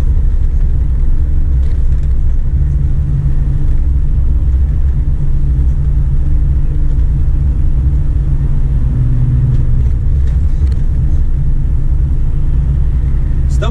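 Heavy truck engine and turbo on a long mountain descent of the Serra de São Luiz do Purunã near Curitiba, a steady loud low rumble that drones on without a break.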